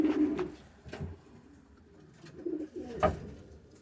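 Show pigeons coo in low, throaty bursts, several soft rolling calls close by with quiet gaps between them and faint rustling around.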